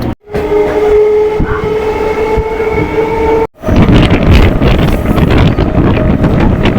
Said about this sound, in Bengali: আমাদের ট্রেনটা শিয়ালদাহ স্টেশন থেকে বজবজের উদ্দেশ্যে ছেড়ে দিল